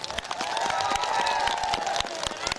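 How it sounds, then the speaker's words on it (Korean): An outdoor concert crowd applauds at the opening of a big show, a short burst of dense clapping with scattered cheers at steady loudness. "오픈식을 진심으로 여러분과 함께 뜨거운 박수로 축하드리고 싶습니다"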